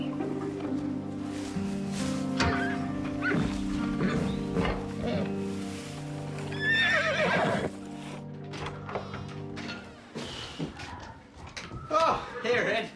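A horse whinnies loudly and close, and hooves clop on the ground among other farm animal sounds, including clucking fowl. People talk over the top of it.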